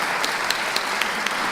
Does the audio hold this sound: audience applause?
yes